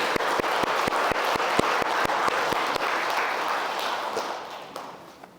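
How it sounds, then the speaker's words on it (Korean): A church congregation at a Sunday service applauds, a dense wash of many hands with a few louder claps standing out, holding steady and then slowly fading away over several seconds. "우리가 박수를 한번 했으면 좋겠습니다"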